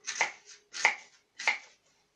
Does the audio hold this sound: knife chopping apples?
yes